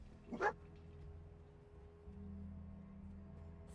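A single short dog bark or yip in the Fallout 4 game sounds once near the start, moderately clear, followed by low ambient game hum.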